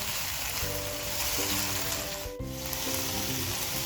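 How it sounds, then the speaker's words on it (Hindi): Capsicum and cabbage fry for fried noodles in a hot pan, a loud, continuous hiss and sizzle broken by a brief dip midway, with faint background tones and no voices. "शिमला मिर्च, बंद गोभी और इसको मिक्स करें। इसको 2 मिनट के लिए फ्राई कर लें।"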